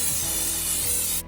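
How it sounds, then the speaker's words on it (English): Cooking spray hissing from an aerosol can into an air fryer basket, one short, loud, steady burst lasting about a second before cutting off. "Now I'm gonna spray my air fryer basket with some cooking spray."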